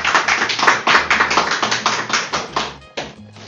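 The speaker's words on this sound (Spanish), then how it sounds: "Otra vez, otro aplauso, amigos." A small studio audience on a talk show claps in quick, uneven bursts for about three seconds, close and fairly loud, tapering briefly before a final few claps.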